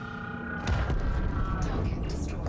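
A loud burst erupts as an alien ship explodes in the video game Elite Dangerous after a brief quieter moment, followed by sustained rumbling and crackling blasts, with game-like tonal hums underneath.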